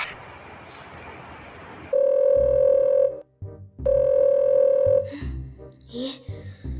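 An unanswered phone call rings in the video game Sakura School Simulator, with two long, even electronic ring tones separated by a short pause. A soft, hissy background runs before the rings, and other game sounds follow.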